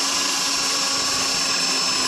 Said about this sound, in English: Get yourself your 25mm drill bit, because that's the size tenon you want. Drill into the end.